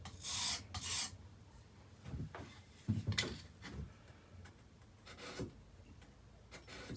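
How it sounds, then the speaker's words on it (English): A hand plane blade is rubbed back and forth on a sharpening surface to work off the burr, making short scraping, rasping strokes in irregular bursts, close and fairly quiet. "And again, I've got a burr to work off."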